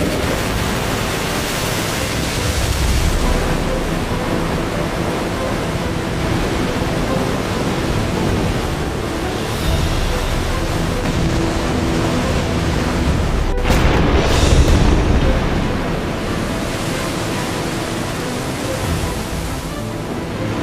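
Great flood water rushes as a loud, dense, continuous roar like heavy surf, swelling slightly midway and never letting up.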